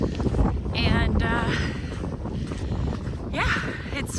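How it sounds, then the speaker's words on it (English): Strong wind gusts across a country road, buffeting the microphone with a loud, rough, continuous rumble, while a voice speaks in brief bursts over it. "it's very windy"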